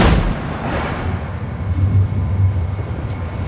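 In a televised 5-pin bowling semi-final, a ball crashes into the pins with a sharp impact followed by a rumbling, clattering scatter that fades into echoing alley noise and a low crowd murmur.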